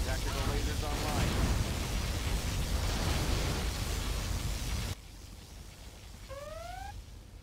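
Particle cannon firing in Command & Conquer Generals Zero Hour, a roaring, eruptive blast of broadband noise that cuts off abruptly, followed by quieter ambience and a short electronic tone.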